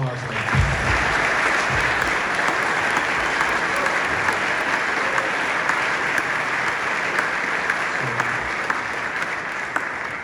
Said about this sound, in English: Guys, give him a round of applause.